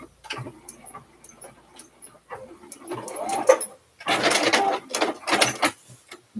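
A sewing machine stitches straight down the seams of a lined zipper bag, running in short bursts with brief pauses between, loudest near the end.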